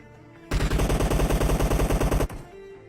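An M4 rifle fires in the video game PUBG: one loud, rapid automatic burst of about twenty evenly spaced shots lasting under two seconds, then it cuts off abruptly.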